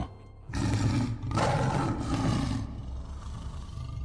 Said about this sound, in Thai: หูก็ได้ยินเสียงเสือร้องคำราม